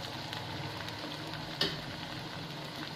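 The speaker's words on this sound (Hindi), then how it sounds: "इनको इस मसाले में अच्छी तरह मिक्स करें" Mustard greens being mixed into a spice masala in a pan for sarson ka saag, a soft continuous sizzle with light stirring scrapes and one brief clink, close and fairly quiet.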